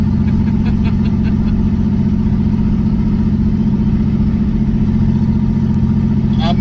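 A Ford SN95 Mustang in need of a lot of work cruises slowly in fourth gear, its engine a loud, steady low drone heard from inside the car throughout.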